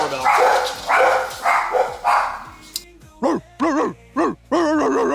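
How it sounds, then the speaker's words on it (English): Several dogs bark in quick bursts, loud and close, with sharp yelping barks and a few howling, pitch-bending calls toward the end. "Crazy dogs."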